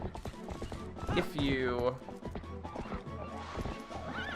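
Horse whinnying and clip-clopping hooves in the video game Zelda: Twilight Princess HD, a loud neigh near the middle with galloping steps around it, under game music and someone talking.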